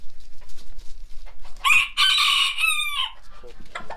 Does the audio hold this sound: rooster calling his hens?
yes